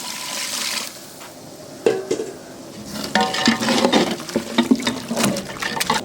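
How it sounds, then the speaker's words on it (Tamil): Water is poured into a pan of sambar masala made with sambar powder and coriander powder, giving a splashing, gurgling pour in uneven bursts with stirring-like sloshes and no talk. "இந்த மசாலா கொதி வர அளவுக்கு தேவையான தண்ணி ஊற்றிக்கலாம்."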